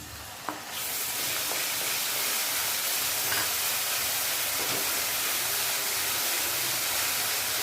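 Ginger-garlic paste drops into oil with browned onions and whole cumin, setting off a sudden loud hiss that settles into a dense, continuous close sizzle for a brinjal masala curry.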